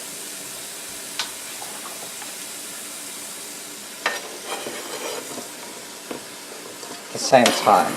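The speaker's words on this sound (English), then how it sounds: "just to brown up the meat. And I also throw in the onions." Pork and onions browning in a pan give a low, steady sizzle throughout, with a few spoon-against-pan clinks and stirring scrapes toward the end and a brief spoken phrase.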